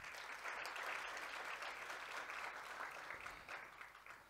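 A steady, dense wash of audience applause at a mid-year budget speech event in Namibia, heard from a distance and quite faint, sustained evenly before tapering slightly at the end.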